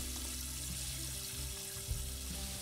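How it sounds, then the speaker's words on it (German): Running water from a sink tap as a dirty aquarium filter is rinsed in the game Aquarist, a steady faint splashing wash throughout with no voices. "Entferne den schmutzigen Filter und wasch ihn in der Spüle ab."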